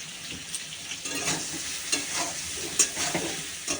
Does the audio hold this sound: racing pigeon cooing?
no